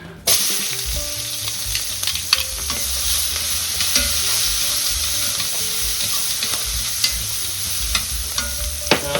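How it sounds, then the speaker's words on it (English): Onions hit a hot pan and sizzle steadily, with stirring clatter and scraping scattered through the continuous frying hiss, close and fairly loud, no voices. "Okay, that should be done. Toss our onions in."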